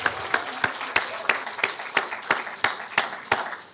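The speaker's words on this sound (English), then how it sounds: "Give them a round of applause." Audience applause for a steel orchestra at a public symposium, a steady run of sharp, evenly spaced claps, moderately loud with no talk over them.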